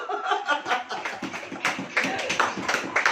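A church congregation claps together in a dense burst of applause, uneven and lively, with a few faint voices mixed in.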